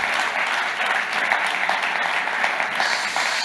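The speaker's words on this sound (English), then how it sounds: "I think all of our panelists deserve a great round of applause" Steady, full audience applause for panelists at an Africa-focused CEO talk, a dense close wash of clapping that holds without pause throughout.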